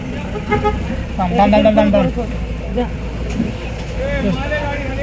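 Congested traffic at Vashi market, with car horns tooting repeatedly over a rumble of engines and road noise, busy and close, while people talk nearby.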